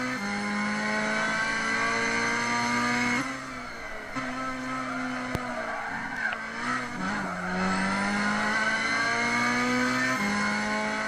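A post-1980 race car in Gran Turismo 6 at Sierra howls at high revs, pitch climbing through gears with brief drops between shifts, tires skidding and squealing through corners, loud and steady throughout.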